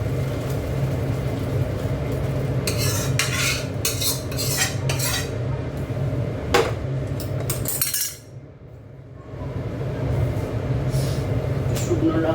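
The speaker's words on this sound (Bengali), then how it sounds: "দেখো ডালটা ঢেলে নিচ্ছি" Dal poured into a cooking pot holding boiled tomatoes, a run of clattering metallic pot and utensil knocks over a steady low background hum, with a brief quieter gap before the hum resumes.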